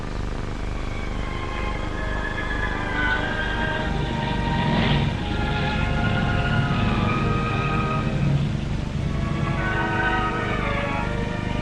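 Sky Chief airliner of Australian National Airways cruising on the Melbourne to Perth route, a loud steady engine drone with layered tonal hum and slowly shifting pitch, continuous throughout, heard alone.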